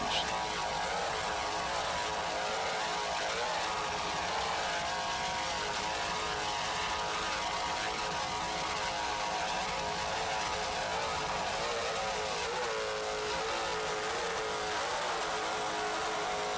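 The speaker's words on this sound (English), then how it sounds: "Just listen to those two 650-horsepower Zool racing engines." An offshore racing powerboat with two 650-horsepower Zool racing engines at an offshore grand prix off Virginia Beach, roaring in a steady, loud, broadband drone that holds throughout with no talking.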